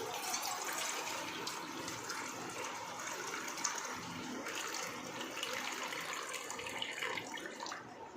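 Water is scooped with a bowl and poured into a large heavy-bottomed pot while preparing Gujarati lapsi; a steady splashing, running pour continues close by for several seconds without a break.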